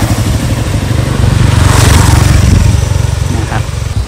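A motorcycle runs close by on a road near a forest waterfall in Khiri Wong, Nakhon Si Thammarat, its engine droning steadily and swelling louder in the middle, with a low rumble throughout and no talk.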